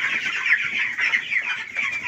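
Broiler chickens about 17 days old clucking on a farm, a dense, continuous chorus of many birds chattering and peeping nearby.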